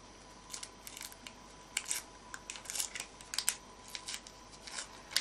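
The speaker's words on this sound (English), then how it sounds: "Grab a corner, and you can just then start to peel the tracing paper off." Tracing paper peeled by hand off sewing fabric backed with Wonderweb fusible webbing: quiet, crackly paper rustles and tearing ticks in irregular bursts, close up, with no talking.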